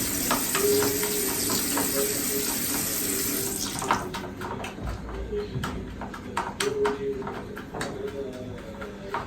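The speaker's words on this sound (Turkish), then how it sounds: "Karıştırıyorum" Food stirred in a pan while cooking, with a steady sizzle, scraping clicks and knocks of a utensil, and a running tap or splashing water, under quiet talk.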